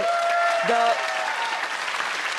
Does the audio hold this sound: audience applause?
yes